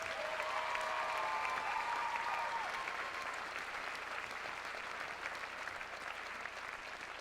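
Steady applause from a large audience at a university presidential inauguration ceremony, a dense even wash of clapping that carries on for several seconds with a few faint voices underneath.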